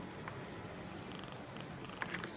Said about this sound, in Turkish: Bir numaralı tekir kedisi.